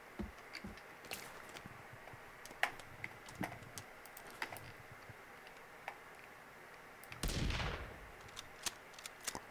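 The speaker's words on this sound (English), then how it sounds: "Might be the first shot I've ever done with this gun" A single gunshot rings out from a gun in the survival game Sons of the Forest, a sharp burst with a short tail, set among faint clicks and taps in a quiet scene.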